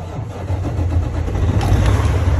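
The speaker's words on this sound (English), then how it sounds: "start the engine" A truck engine on a Class 3 vehicle cranks and fires up, settling into a steady low rumble that builds slightly over a couple of seconds, loud and close with no talking.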